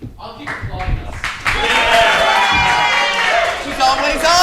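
A comedy radio show audience's applause and cheering swell and continue steadily, with shouts and voices mixed into the dense clapping.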